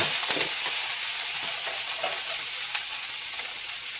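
Vegan sausage, onion and potato sizzle steadily in a skillet while a utensil stirs through them now and then, a close, continuous frying hiss with soft scraping under it and no talk.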